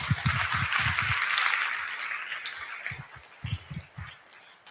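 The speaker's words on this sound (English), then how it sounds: "could we give them a round of applause?" Convention audience applauding at an opening session, a broad hiss of clapping that fades over several seconds while low thumps and murmurs continue underneath.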